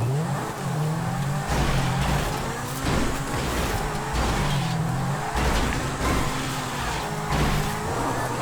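A Grifo Intorno car in GTA 5 drives steadily with a loud, continuous engine drone, its pitch rising and falling in repeated revving swells, with a faint tire noise and no talking.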